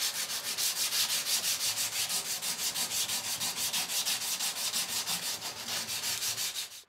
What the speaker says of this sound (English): now we get to do every bladesmith's favorite thing and hand sand this bad boy